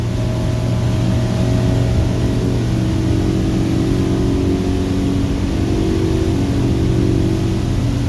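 Twin engines of a 2018 Regal 35 SC powerboat roar at full throttle, a loud sustained drone that rises slightly in pitch as the boat accelerates across the water, with wind and hull noise mixed in and no talk.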